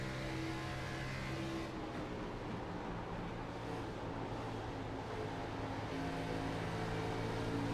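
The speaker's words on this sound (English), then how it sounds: "you listen to him having to get on and off the throttle" A race car in a Grand Nationals racing video game at Kentucky under the lights, its engine droning steadily with the throttle going on and off, heard at a moderate level as a continuous hum with no voices.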